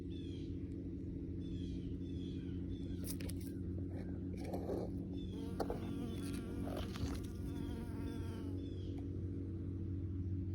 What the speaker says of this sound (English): The honey, that's an actual honeybee. He's down there.